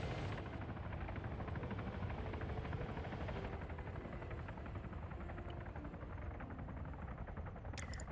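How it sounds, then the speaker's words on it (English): Video game helicopters hovering nearby, a steady rotor thump and engine whine held at an even level throughout, fairly quiet, with no one speaking. "Helicopters are auto-aggroing."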